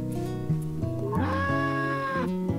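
A game cat in Harvest Moon: A Wonderful Life gives a drawn-out meow partway through, mixed into looping background music with no talk.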